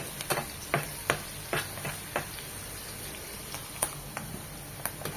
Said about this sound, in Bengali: শুধু একটু এই তেলের মধ্যে পেঁয়াজ পাতাটা একটু নরম করে নেব